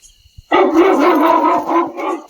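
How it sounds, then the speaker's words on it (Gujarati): A dog barks in a Gujarati village comedy scene, a loud close burst of several rapid barks and yips after a brief quiet start. "કૂતરું બોલવા માંડ્યું"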